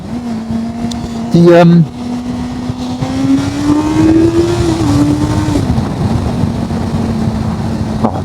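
Honda CBR 650R motorcycle engine, a 2023 model, droning steadily and rising in pitch as it revs through several seconds, loud and close, with a brief burst of other noise early on and a voice speaking briefly.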